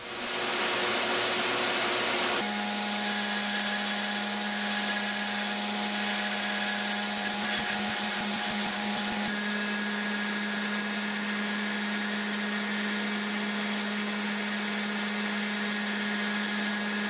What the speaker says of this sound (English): I'll go to higher and higher grit belts, culminating with 30 micron 3M Trizac belts.